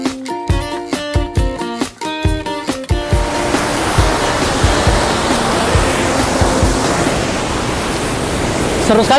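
The Kedung Bedut waterfall in Yogyakarta pours in a steady, dense rush of water, loud and continuous, after a few seconds of rhythmic sharp knocks at the start.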